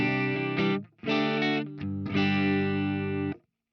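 An electric guitar plays through Plethora X5 pedals with a clean, barely broken-up tone: a few strummed chords ring out loudly in short bursts, then stop, with no talking.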